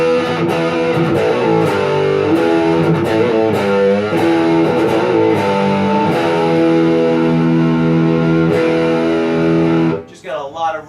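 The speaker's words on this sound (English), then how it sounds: "It's great for heavy chunking stuff." Heavy, distorted electric guitar chugs through chunky riffs with thick sustained chords, loud and continuous, ending abruptly near the close.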